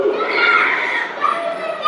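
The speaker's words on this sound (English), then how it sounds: "This crowd has been hot all night long." Excited crowd at a live wrestling match cheering and shouting, with high-pitched young voices prominent in a loud, surging wash of noise.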